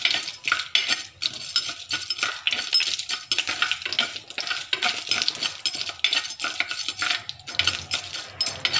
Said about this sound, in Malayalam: ഉഴുന്നൊന്ന് ചുവന്ന് വരുന്നവരെ ഒന്ന് ഇളക്കി കൊടുക്കാം